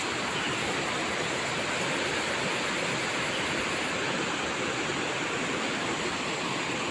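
The Bogowonto river flows past, a dense, steady rushing roar that holds at an even loudness throughout with no breaks, close and continuous.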